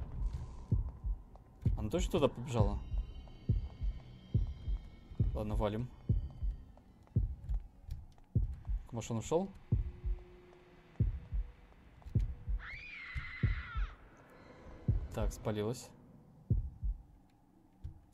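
Heartbeat sound effect in the survival horror game Horrorfield: deep, regular double thumps pulse steadily throughout, with players talking over them and other game sounds in between.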